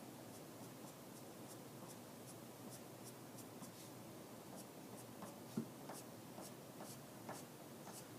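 Pencil scratching across drawing paper while eyelashes are sketched on an eye drawing, a faint, steady scratchy texture punctuated by a series of short, quick flicking strokes, close and quiet with no talking.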